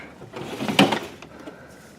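A single wooden drawer slides and knocks shut, a brief mid-loud rumble and clunk, followed by quiet room tone.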